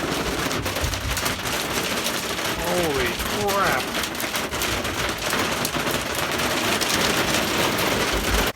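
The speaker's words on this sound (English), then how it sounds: "we're stuck in a hailstorm." Hail hammers the metal roof of a school bus being converted into a skoolie, a dense, loud, nonstop rattle of impacts filling the whole stretch, with a man briefly exclaiming partway through.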